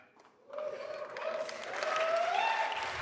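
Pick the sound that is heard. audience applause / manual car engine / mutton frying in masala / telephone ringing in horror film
audience applause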